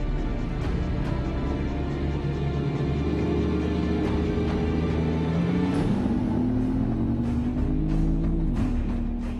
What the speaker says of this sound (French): un départ lancé à 70 km/h, vitesse minimale obligatoire pour le man, avec une accélération jusqu'à 160 km/h